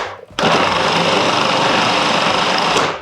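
Food processor whizzing fresh coriander stalks with cumin, coriander powder and dried coriander, starting abruptly into a loud, steady high-pitched whirring that runs for under three seconds before cutting off.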